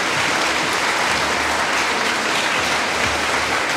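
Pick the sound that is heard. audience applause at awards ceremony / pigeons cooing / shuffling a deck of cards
audience applause at awards ceremony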